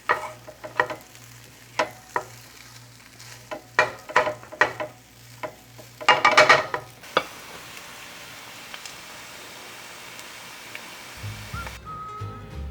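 Rice frying on bean sprouts in a pan for Japanese-style fried rice, with several sharp scraping stirs and a burst of crackling sizzle near the middle, then a quieter steady hiss; a brief low hum comes in at the end.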